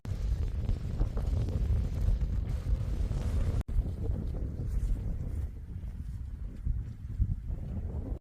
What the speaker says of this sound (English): because this wind is crazy